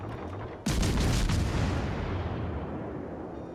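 A cruiser's main guns fire in a naval warfare game, with one sudden loud boom followed by a long rumbling decay, heard close and alone with no talking.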